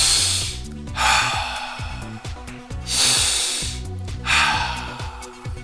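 A person breathes in audibly through the nose and out through the mouth in three slow, steady cycles, each a soft hissing rush close to the microphone, over rhythmic background music.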